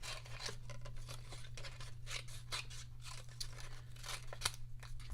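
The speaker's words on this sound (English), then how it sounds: "So I'm just going to cut this out real quick. I'm going to cut around it." Scissors snip around a paper sentiment for a handmade card in quick, close, quiet cuts, a steady series of crisp clicks and rustles over a low background hum.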